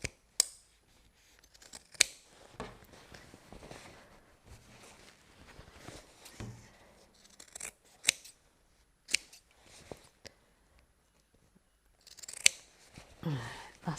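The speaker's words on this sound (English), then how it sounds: "I just want to chop that off. And then as close as you can without snipping the stitches" Scissors snipping fabric close to the stitches of a sewn BBQ utensil roll: sharp, separate cuts in small bursts with quiet gaps, close and clear, with no talking.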